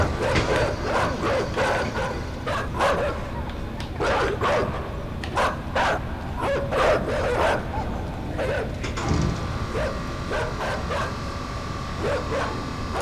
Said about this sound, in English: Do I need to kill the dogs?